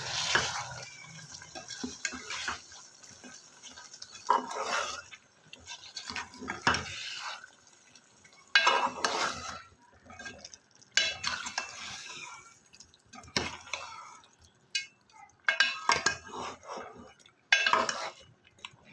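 Tomatoes are mixed into chicken karahi in a pan, with bursts of wet stirring, scraping and utensil clatter separated by short quiet pauses, close and moderately loud.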